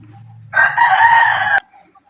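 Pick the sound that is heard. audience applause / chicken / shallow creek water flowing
chicken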